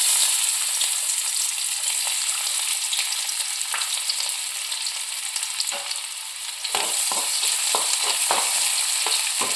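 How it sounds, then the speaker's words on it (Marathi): Onion dropped into hot oil for a Kolhapuri chicken tempering, giving a loud, continuous close-up sizzle that later breaks into sharper crackles and stirring scrapes. "तेल तापलेलं आहे आपलं, त्याच्यात कांदा टाकून घेऊया"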